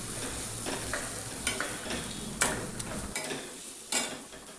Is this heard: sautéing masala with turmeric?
yes